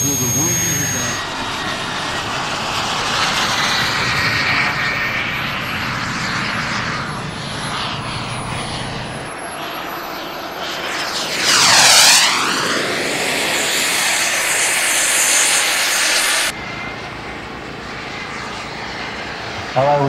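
A jet aircraft lands at an air show, a loud, sustained roar of the engine with a rising and falling whine as it passes close by, alongside an announcer's voice over the public address.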